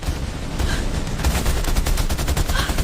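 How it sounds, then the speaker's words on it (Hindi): Dense gunfire crackles in close, overlapping bursts during a bandit shootout with police in the Chambal ravines, loud and continuous with rapid machine-gun-like volleys. "गोलियां बहुत पास से आ रही हैं।"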